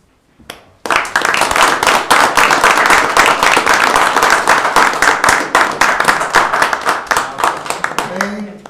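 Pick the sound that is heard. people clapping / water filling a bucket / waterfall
people clapping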